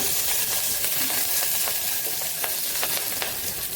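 About five green chillies sizzle steadily in hot oil, a constant close hiss with small crackling pops scattered throughout, while a ridge gourd masiyal is being prepared; no voices are heard.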